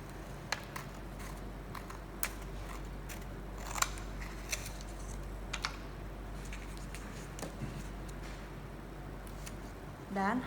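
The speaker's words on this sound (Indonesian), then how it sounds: "Lalu kemudian kita gunting." Scissors snip through paper in a series of small, faint, irregular clicks spread over several seconds, close but quiet over a low background hum.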